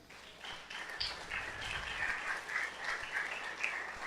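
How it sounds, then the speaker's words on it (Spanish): Church congregation applauding during a sermon, a soft scattered round of clapping at some distance, rising after a moment and holding steady with a few sharper claps standing out. "Dele un aplauso al Rey"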